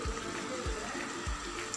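Glassful of water poured into a cooking pot while making Afghani pulao: a steady close splashing stream that swells in low, regular surges as the water lands in the pot.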